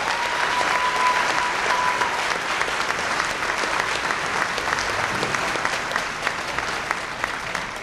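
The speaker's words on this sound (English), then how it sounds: "Give them a big round of applause." Steady round of applause from a banquet room audience at an awards dinner, even continuous clapping with scattered louder claps and a faint tone early on.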